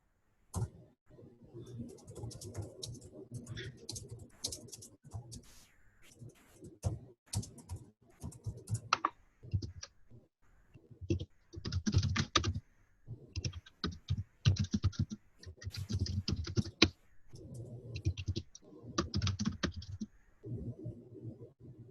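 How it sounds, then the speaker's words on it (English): Clicky computer keyboard typing in rapid bursts and irregular runs of keystrokes, close and fairly quiet, with pauses between flurries and no talking. "can see you typing"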